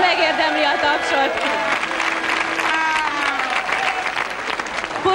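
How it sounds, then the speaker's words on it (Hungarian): A studio audience at the 1994 Jeux Sans Frontières in Pécs gives loud, steady applause with some cheering, while music and a presenter's voice carry over the clapping. "Fantasztikus nyelvtudás, megérdemli a tapsot!"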